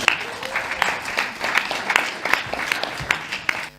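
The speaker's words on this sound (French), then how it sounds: "Applaudissements pour le 100 ECS quand même." Audience applause at the opening of a short-film festival in Paris, a moderate round of clapping with distinct individual claps throughout, fairly close.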